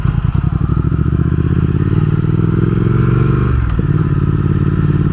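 A 2019 Triumph Speed Twin rides through traffic with its engine running close, loud and continuous. The pitch holds steady, then drops sharply as the rider rolls off the throttle, with light wind rumble underneath.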